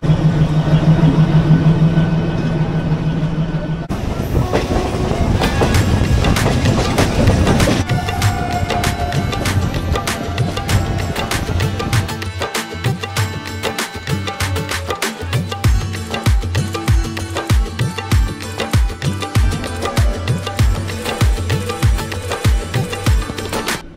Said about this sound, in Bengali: বন্ধুরা ট্রেনে চড়ে বসলাম, ট্রেন অলরেডি লেট